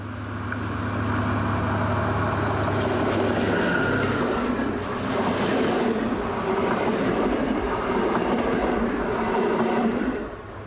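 An Austrian class 2143 diesel locomotive hauls a passenger train from Krems near Paudorf, a loud continuous rumble with rail clatter and clicking wheels passing close by for the full length.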